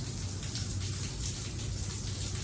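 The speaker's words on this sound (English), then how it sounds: "I mean, it's still raining" Steady rain falls outside a garage, a dense even hiss of drops with a low rumble underneath, continuous and fairly close, with no voices.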